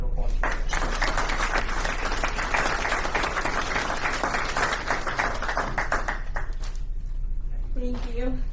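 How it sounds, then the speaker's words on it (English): A school district board meeting audience breaks into sustained applause lasting around six seconds, then fades as a voice speaks briefly at the end. "Let's give a round of applause for that."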